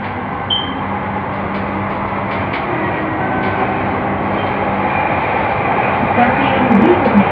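A Jakarta LRT Jabodebek train runs just after leaving Rasuna Said station, a loud, steady interior rumble of wheels and motors that swells slightly toward the end, with brief tonal squeals and voices talking over it.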